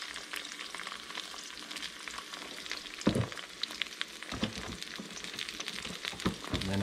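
An egg frying over ham in a 7-inch GreenPan frypan crackles with a steady close sizzle, broken by scraping spatula passes around the edges and a few louder clatters, no talking.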